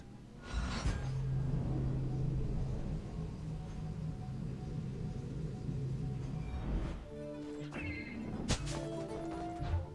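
A horse whinnies in the video game Assassin's Creed Odyssey, a loud sustained neigh over steady rumbling background, followed by a busier stretch of scattered clatter and game sounds.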